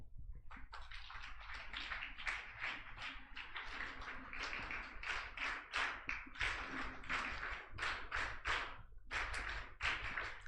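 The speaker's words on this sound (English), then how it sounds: "We can all have a round of applause now as our EMARC students commence the grad walk" Sustained applause from a large audience at a college convocation ceremony as graduating students begin their walk, dense steady clapping filling the hall throughout with no talk.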